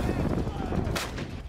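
A heavy artillery cannon in a war zone fires a deep, booming blast, heard briefly at moderate loudness as a dense low rumble with a sharp burst in the middle.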